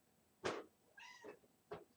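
A house cat meows twice, close and clear, with a shorter third call after a pause, in an otherwise quiet indoor room.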